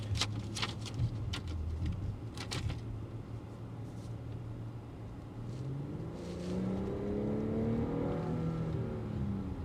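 An Audi SQ5 accelerates in dynamic drive mode, its engine note climbing steadily in pitch as the revs build, with a continuous near, moderately loud drone and no talk.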